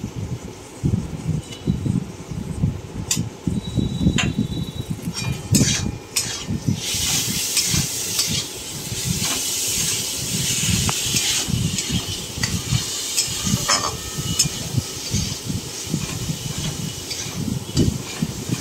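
Ginger-cumin paste for a banana flower ghonto being stirred and fried in a pan, with steady close sizzling and frequent scraping stirring strokes that continue throughout, with no voices.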